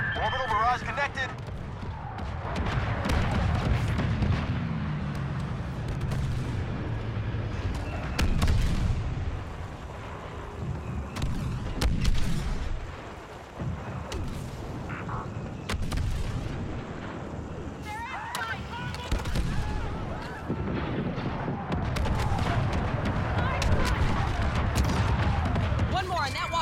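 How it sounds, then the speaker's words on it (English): Orbital barrage strike in Star Wars Battlefront 2 during the Battle of Jakku, a long run of heavy booming explosions and rumbling blasts, some close and sharp, others rolling and distant, with crackling debris between impacts. "This is Inferno Squad calling Starhawk Command, requesting an orbital strike."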